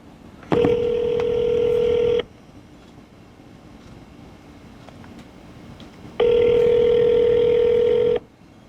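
A telephone's dial tones sound in two sustained bursts of about two seconds each, separated by a quiet gap of roughly four seconds, as a takeout order call to a restaurant is placed.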